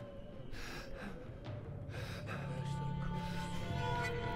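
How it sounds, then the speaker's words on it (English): A character in the horror video game Outlast 2 breathes heavily, with ragged gasping inhales and exhales repeating close up over a low ambient drone. "Dude, get your breathing under control."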